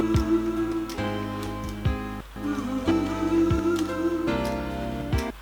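A sampled drum loop played back on a Teenage Engineering OP-1 synthesizer, with steady kick and snare hits under a sustained tonal bed in a repeating hip-hop rhythm, moderately loud and without voices.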